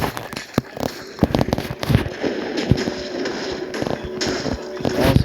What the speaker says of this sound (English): you can see explosions, because the cannons are all that is left of this army out here